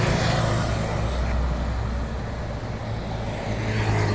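Steady road noise from a vehicle driving down the middle of a road at night, a constant low engine and tire rumble with a faint hum, continuous and fairly close.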